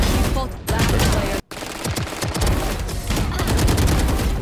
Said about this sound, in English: Do you ever check out the kill sounds?